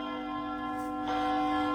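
Church bells ring with sustained, overlapping tones, and a fresh strike comes in brighter and louder partway through.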